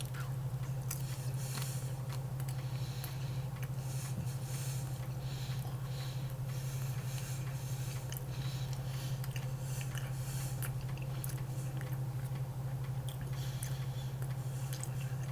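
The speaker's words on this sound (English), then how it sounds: "You'll be chewing on these for a little bit." Someone chews StoneRidge honey barbecue meat snack sticks close to the mic: steady wet, clicking bites over a constant low electrical hum, with no talking.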